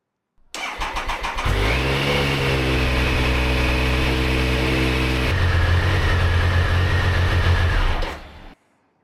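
A Triumph Sprint motorcycle engine with serious problems cranks with a rapid chugging starter, catches, and settles into a loud, steady running drone close by, then cuts off abruptly.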